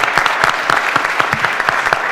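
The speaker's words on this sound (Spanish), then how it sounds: "por favor, un fuerte aplauso por los verdaderos maestros del silbo" Audience applause at the end of a talk on the whistled language of Gran Canaria, loud and close, a dense continuous burst of many hands clapping.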